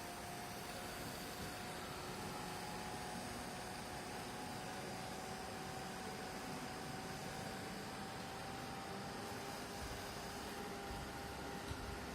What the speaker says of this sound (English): Actually this is a heat gun, but if you don't happen to have a heat gun, you can also use a blow dryer to dry out fast.